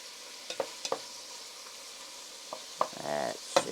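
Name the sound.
beef short ribs searing in a pan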